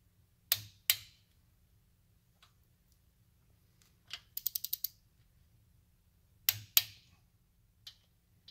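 Torque wrench clicking on cam plate bolts of a 2004 Harley-Davidson FLHTCU, with a few sharp separate clicks, then a quick rapid run of ratcheting ticks, then more clicks, all close and clear with no talk.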